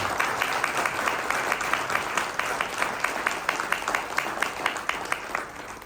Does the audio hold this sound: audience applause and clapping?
yes